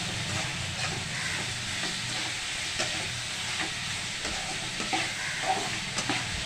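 A spoon stirs beetroot poriyal in a hot pan, scraping and sizzling steadily up close, a constant frying hiss with small clatters, no voices.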